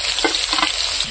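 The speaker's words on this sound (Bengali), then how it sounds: "পেঁয়াজ কুচি দিয়ে দিচ্ছি" Chopped onion frying in a pan for a goat meat curry, a steady sizzle with stirring scrapes throughout, close and fairly loud, no talking.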